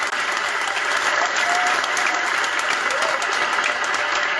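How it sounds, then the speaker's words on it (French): A crowd applauds steadily and loudly throughout, a dense continuous wash of clapping at a rally or public gathering, with no break or lull. "On acclame d'abord pour nous-mêmes."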